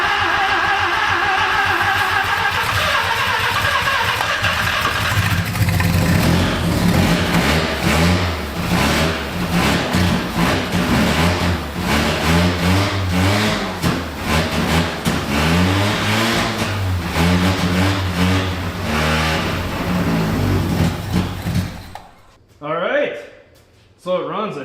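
A Mazda rotary engine in a pickup fitted with a Holley carburetor cranks, catches and runs with revving bursts, loud and close for about twenty seconds before cutting off, while people talk nearby.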